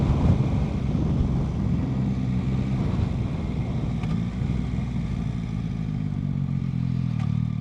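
A 2025 Yamaha Tracer 9 GT with Y-AMT automated transmission ridden on the road, a steady engine drone with slight swells as the throttle rolls on and off, under heavy wind rush and no talk.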